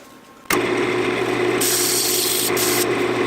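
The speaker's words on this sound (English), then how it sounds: "Now I'm going to do all my sanding and everything while it's still on this side" Power sander working a walnut pen display stand, starting abruptly and running loud and steady as a broadband whir with a low motor hum, alone.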